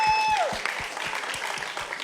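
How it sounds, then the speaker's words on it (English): Round of applause for a contestant at a live shader coding competition at the Solskogen 2016 demoparty, a crowd clapping steadily while a brief tone sounds at the start. "And a big round of applause will follow."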